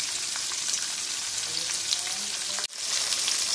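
Chicken pieces frying in hot oil, a dense, loud, steady sizzle and crackle with a momentary break near the end before the bubbling resumes.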